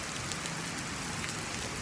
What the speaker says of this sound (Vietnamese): Trời mưa lớn quá rồi